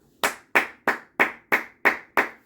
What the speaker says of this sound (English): That's me clapping, y'all.